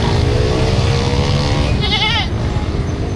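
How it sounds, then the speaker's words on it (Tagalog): A goat bleats once, loud and wavering, for less than a second amid the constant rumble and crowd noise of a busy livestock market selling cattle, goats and water buffalo in Padre Garcia, Batangas. "Pangkatay na kambing."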